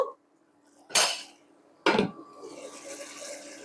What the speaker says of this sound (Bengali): তো আমি সামান্য সময়ের জন্য ঢেকে দিব।